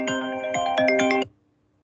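A telephone rings with a bright, tonal electronic trill for just over a second, then cuts off abruptly into near silence.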